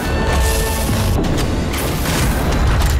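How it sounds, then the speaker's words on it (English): The light bomb in the video game Nosgoth goes off in a dense, loud burst of crashing, booming noise that fills the whole moment, with no talk. "It explodes in a dazzling burst of light that blinds any nearby vampire caught in its rays"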